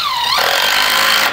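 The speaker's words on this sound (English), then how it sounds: "we are drilling into half iron or half inch red steel" A drill bores into half-inch red steel, a loud, continuous grinding whine with a sliding pitch that drops and then holds as the bit bites, close and steady throughout with no talk.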